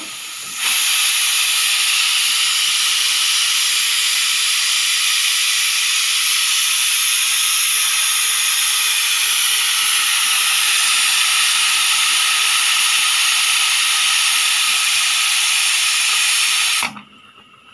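A pressure cooker of beef vents a loud, steady steam hiss that carries unbroken for about sixteen seconds, then cuts off abruptly.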